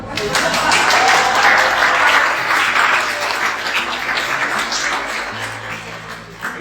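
Sustained applause from a crowd, steady and fairly loud throughout, slowly fading a little toward the end, with voices murmuring underneath.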